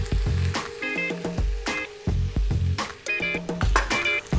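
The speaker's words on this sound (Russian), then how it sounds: "Можно добавлять птицу." Duck sizzles and crackles in a hot pan, with repeated clattering of a utensil against the pan and intermittent tonal clinks.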